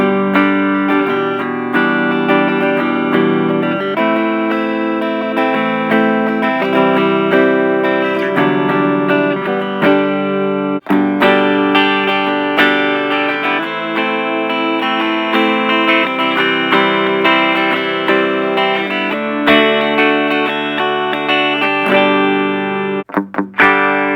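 An electric guitar played through a Blackstar Fly 3 mini amp with the EQ set at 12 o'clock gives sustained, effects-laden chords and riffs, loud and continuous throughout, with no talking.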